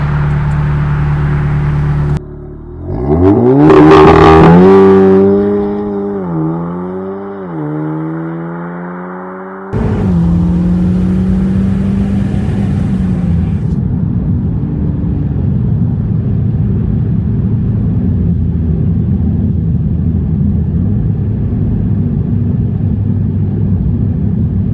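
A 400 BHP Audi S3 8V Black Edition launches hard from a standstill: the engine snarls up through rising revs with quick gear-change dips, then settles into a loud, steady exhaust drone that holds for the rest of the run.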